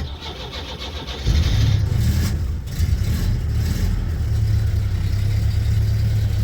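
A Volga car engine starting on gas: a steady low drone, then after about a second a loud catch into a throbbing idle that runs steadily to the end, close and with no voices.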